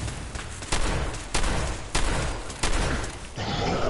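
Turret gunfire in the video game Fallout 4, heard as loud dense bursts with four or five sharp heavy reports over a constant roar of shooting.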